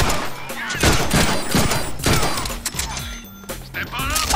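Dense gunfire from the Deadpool video game: rapid, loud volleys of shots and thuds in close succession, with in-game voices talking over the bursts throughout.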